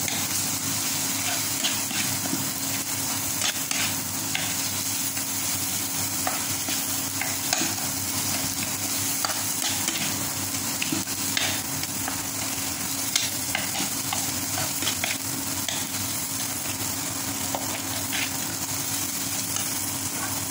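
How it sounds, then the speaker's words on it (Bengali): Tomato, onion, ginger, garlic, cumin powder and green chili sautéing in a pan for a crab curry, with steady close stirring and a continuous sizzle running throughout, alone and without voices. "টমেটো দিয়ে দিয়েছি, পেঁয়াজ আদা রসুন জিরা গুঁড়ো সব দিয়ে দিয়েছি, কাঁচা লঙ্কা হ্যাঁ দিয়ে এবার কষিয়ে নিচ্ছি ভালো"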